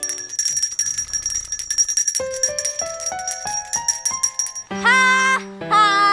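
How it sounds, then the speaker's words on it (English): A bell rings repeatedly in a bright, rhythmic pattern during a children's show, mixed with sung, melodic tones that rise in steps and then hold near the end. "Maybe if I ring the bell the whole time I'm singing, it'll wake him up."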